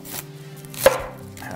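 A knife slices an onion in half on a cutting board with one crisp chop near the middle, set against a quiet kitchen background, with no talking.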